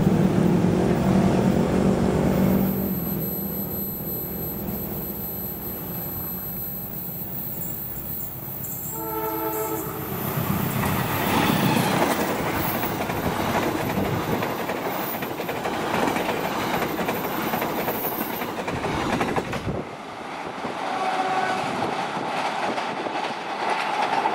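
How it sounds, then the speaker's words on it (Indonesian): The Fajar Utama YK 143B passenger train passes by with a rumbling roll, rhythmic wheel clatter and a horn, loud and near. The sound shifts sharply late on as the train moves past, and no one speaks. "Kemudian ini kereta api Fajar Utama YK 143B"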